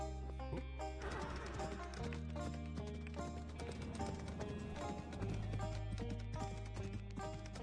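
Horse hooves clip-clop in the video game Chambers, a rapid, steady rhythm of hard taps running over a droning game music bed, with no talking.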